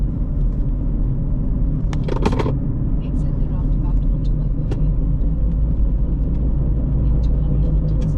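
Cars circling a roundabout near a port in Sidab, Oman, making a steady low road rumble with a few vehicles passing, while someone talks over the traffic throughout.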